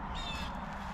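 A harsh crow caw rings out briefly over a steady ambient outdoor hum, with no talking.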